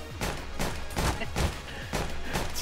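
Bursts of gunfire aimed at players in a video game, five or six evenly spaced booming volleys with short gaps between them, fairly quiet and rough-textured in the game mix.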